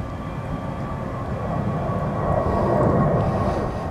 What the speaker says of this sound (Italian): Guarda, però che ci sono gli aerei che si alzano.